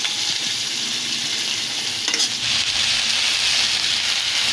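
Green chillies and beans frying in a pan, a dense, loud hissing sizzle that holds steady with a brief stir or clatter partway through.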